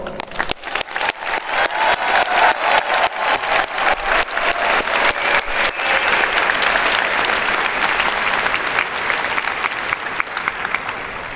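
Applause from a graduation ceremony audience starts with scattered claps and swells into a full, steady wash of clapping that carries on to the end.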